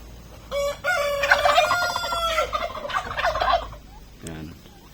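A loud turkey gobble rattles out in a long burst lasting a few seconds, followed by a short rough call, close by and with no talking.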